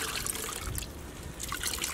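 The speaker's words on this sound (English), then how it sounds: "I think I'll change out this rinse water." Rinse water from indigo dyeing is poured out, a quiet, steady trickling and splashing of liquid that runs continuously with no voices.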